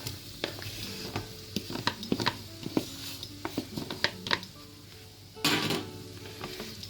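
Pieces of potato tumble into a pot of sweated onions for a potato and preserved lemon soup, with close clattering knocks, scraping and a brief rush of sizzle, no talking.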